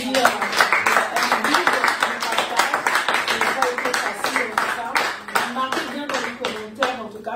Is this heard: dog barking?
no